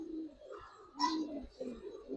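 Giribaz pigeons coo softly in short, low murmuring phrases with a brief brighter burst midway, quiet and close.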